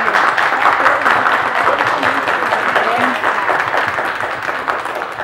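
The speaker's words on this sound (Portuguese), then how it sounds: "Eu gostaria até de pedir uma salva de palmas para eles." An audience at a community talk on family immigration memories in Bom Jardim, Rio de Janeiro claps steadily, a dense, sustained round of applause filling the room for the full stretch, with a few voices mixed faintly underneath.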